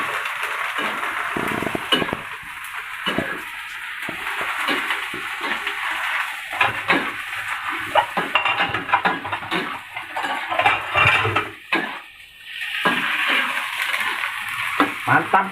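Tempeh and tofu being stir-fried for sambal goreng, a steady sizzle under repeated scraping and clattering of a utensil against the pan, close up.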